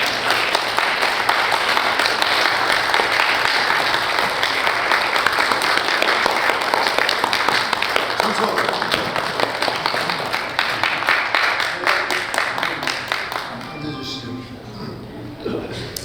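An audience at a Korean War 73rd anniversary memorial service applauds in a sustained, dense round of clapping that carries on for several seconds before thinning out and fading near the end.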